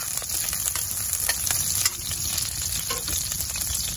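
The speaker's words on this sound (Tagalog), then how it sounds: "So pagsamahin na po natin yung bawang, ang ating sibuyas, and just mix it all together." Garlic and onion fry in a pan for spicy squid, a loud, steady sizzle under constant stirring with soft scraping taps and no talk.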